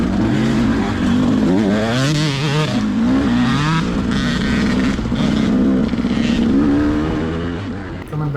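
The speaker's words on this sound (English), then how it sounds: "you'll hear a guy revving his engine. That's his pass call." A dirt bike engine revs hard during a 2020 NETRA hare scramble race in the C Senior class. It is loud and close, with rising and falling pitch swings that carry on without a break.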